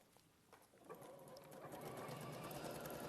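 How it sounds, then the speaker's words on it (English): A sewing machine stitches along a fabric seam at a 5/8-inch allowance, starting softly and building to a steady, quiet whirring run of close needle strokes. "we're going to put this under here and we're going to sew"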